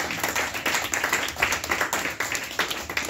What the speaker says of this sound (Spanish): Aplaude, aplaude, aplaude.